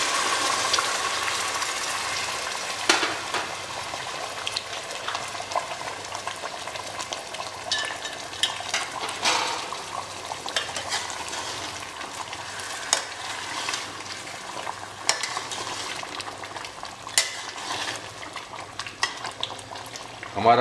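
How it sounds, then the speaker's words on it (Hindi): Mutton nalli nihari simmering in a pot after hot water is added, a steady close bubbling and sizzling with scattered stirring clinks throughout. "अब इसके अंदर हम जो हमने गर्म पानी कर लिया है, ये अपने हिसाब से डालेंगे जितना हमें शोरबा चाहिए।"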